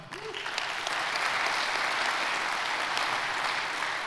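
Audience applause at a conservative policy event in Illinois, welcoming a speaker: a dense, sustained wash of many hands clapping from a large crowd, steady and even for several seconds with no talk over it.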